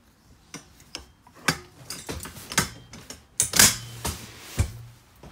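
Legs of a U-shaped dinette table in a 2020 Forest River Cherokee destination trailer being folded, producing a series of sharp clicks, knocks and clunks spaced irregularly, close and fairly loud against quiet surroundings.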